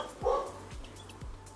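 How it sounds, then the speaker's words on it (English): A dog barks three times at a steady pace, short sharp yaps sounding moderately close and fairly quiet indoors, with a brief voice murmur near the start. "now my dog is barking at something"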